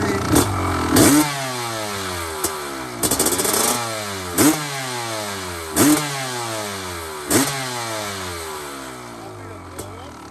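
A Honda CR 500 HRC two-stroke motorcycle engine blips repeatedly from a steady idle on sand, with sharp rising revs and falling pitch sweeps recurring every second or two, loud and close, while people talk nearby.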